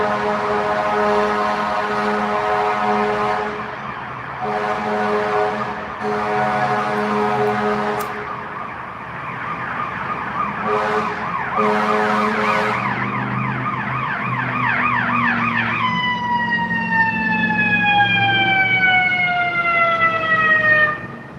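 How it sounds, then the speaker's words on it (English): Loud emergency vehicle sirens wail and yelp in cycling patterns, shifting into a rapid warble, then a long descending tone, close and continuous. "Every time I talk, you're going to hear sirens."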